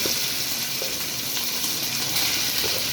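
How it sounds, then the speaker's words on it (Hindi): Chicken frying in a little cooking oil in a pan gives a steady, dense hiss that runs unbroken throughout, fairly loud and close. "पैन के अंदर मैंने थोड़ा सा कुकिंग ऑयल लिया है हस्बे ज़रूरत। उसके अंदर मैंने अब चिकन को"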